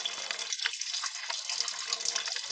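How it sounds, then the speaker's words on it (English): Water from a garden hose under light pressure pours through the radiator hoses of an Audi A6, flushing out foam: a continuous close gushing and splashing, steady throughout, with no speech. "I have the hose in here with a little pressure, so that water is constantly coming in from above and coming out from below"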